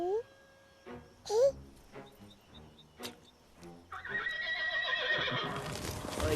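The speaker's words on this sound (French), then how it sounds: "Regarde-moi ces pauvres chevaux." Horses whinny in two loud rising calls near the start, followed by sparse hoof clip-clops and a dense, noisy rush of sound in the last seconds.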